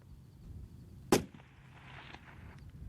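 A single sharp rifle shot cracks out on a zeroing range, fired at a target, loud and close, with a short echoing tail decaying into quiet outdoor background.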